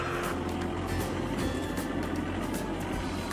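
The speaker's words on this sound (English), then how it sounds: "6300 tractor, combined with the Trioliet Solamix 2000 feed mixer, delivers superior power and rapid livestock feed mixing performance." A Valmet 6300 tractor working with a Trioliet Solamix 2000 feed mixer gives a constant loud engine drone and churning mechanical rumble, unbroken throughout, with no voices.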